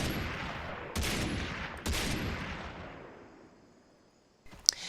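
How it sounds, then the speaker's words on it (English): Two loud, booming shots from the semi-automatic SVD sniper rifle in the video game Far Cry 3, about a second apart, each trailing off in a long fading echo, followed by a short burst of clicking near the end. "The SVD, this is a semi-automatic sniper rifle."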